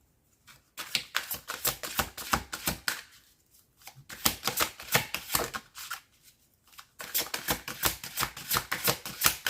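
Tarot cards are shuffled for a reading in quick, crisp riffling bursts, close and fairly quiet, with short pauses between rounds and no talk.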